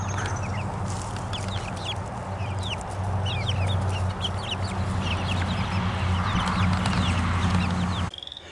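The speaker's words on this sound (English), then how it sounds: "The chickens are out for another field trip." Several chickens cluck and chatter continuously nearby, over a low steady background hum.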